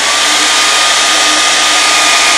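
A hair dryer blows loudly and steadily at close range, a constant high-pitched rushing whir with no pauses.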